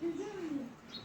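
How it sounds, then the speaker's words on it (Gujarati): A single pigeon gives a short, soft, low coo close by, one quick falling call with no other sound around it. "કબૂતર છે."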